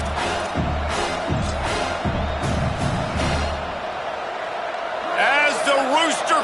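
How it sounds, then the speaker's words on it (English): Home crowd in the video game Madden roaring loudly and steadily throughout, with bursts of commentator-style talk over it and rising whoops near the end. "how nice is it to have the home crowd going absolutely bananas?"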